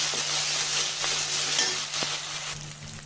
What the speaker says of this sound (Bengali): আদা রসুন জিরাটা ভালো করে ভেজে নিব